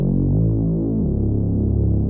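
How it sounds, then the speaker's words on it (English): A deep, thick Reese synth bass built from a saw wavetable and a sine wavetable drones with a slow throbbing, phasing wobble, changing tone partway through as the low end pulses. "Bass Flavors is a really nice Reese bass that consists out of 2 wavetables."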